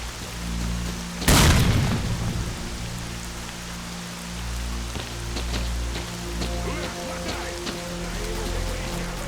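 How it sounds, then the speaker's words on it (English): One sharp, loud grenade blast bursts near the start in S.T.A.L.K.E.R.: Clear Sky, then fades into a steady rain-like hiss with a low hum and scattered faint crackles. "catch a grenade!"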